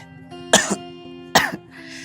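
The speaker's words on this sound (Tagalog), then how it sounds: "hindi nawawala yung pag-ubo-ubo ko" Two harsh coughs from an older man with a persistent cough, about a second apart, close and clear, over a faint steady electrical hum.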